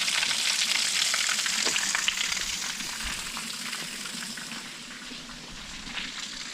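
A stream of water flows out of a large village water tank in Kandli, a steady broadband rush that stays loud and continuous throughout with no talking.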